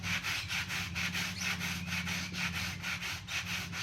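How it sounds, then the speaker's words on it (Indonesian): Steady rhythmic rasping of sandpaper rubbed back and forth on bamboo, close and continuous, over a low background hum. "kita amplas biar rata"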